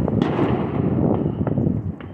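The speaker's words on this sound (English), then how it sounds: "You can hear Jake with the dumbass fireworks" Fireworks going off outside: a dense, continuous rumble of distant bangs and crackles with a few sharper pops standing out, heard from some distance.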